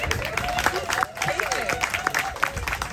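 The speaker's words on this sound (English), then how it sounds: "Can I have a hand of, thank you, round of applause" An audience claps for a spoken-word poet at a Milwaukee poetry performance, a lively, steady round of applause filling the whole stretch with some crowd murmur and voices mixed in.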